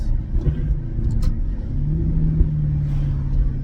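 A Maserati GranTurismo S with its exhaust valves removed, giving a steady, loud, deep rumble that holds for several seconds with a slight rise in pitch partway through, close to the microphone.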